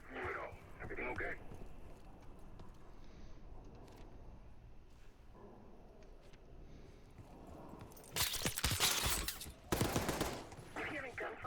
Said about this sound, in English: You hearing gunfire?